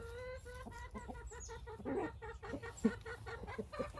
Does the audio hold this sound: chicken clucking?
yes